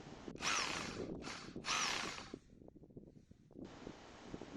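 A rotary hammer drives a 6-metre grounding rod into unfrozen soil beside a dug pit: three loud, close hammering bursts, a short pause with faint rattling, then the tool resumes steadily.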